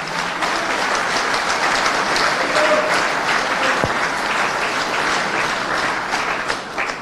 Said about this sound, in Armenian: առաջարկում եմ բարձր ծափահարություններով Վաղարշապատցիներին